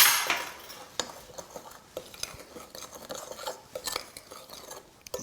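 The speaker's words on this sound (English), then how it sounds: "And now we'll just stir in our caster sugar. There's no need to sift that. And just mix all of those flours up." In a bowl, a utensil stirs buckwheat flours and caster sugar for gluten-free pancakes, making close, irregular scrapes and light clinks against the side, with no talk.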